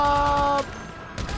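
Bursts of machine-gun fire in Grand Theft Auto 5, a loud, dense rattle at first that cuts off abruptly, then scattered quieter shots follow.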